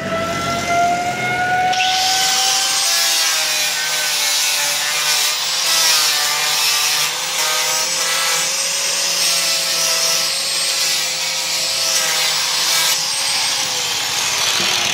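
A wooden bed leg is rubbed down on a lathe, a continuous close whirring, scraping friction with a high ringing tone running throughout, starting abruptly after a short lead-in.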